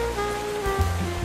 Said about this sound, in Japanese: 雨が降ってきた